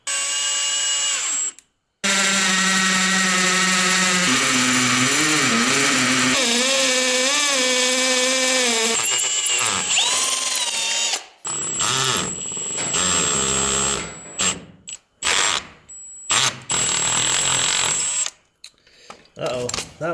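A power drill drives screws into metal roofing panels, whining up and down in pitch through several long runs, then shorter bursts with brief pauses, loud and close, with someone speaking briefly between them.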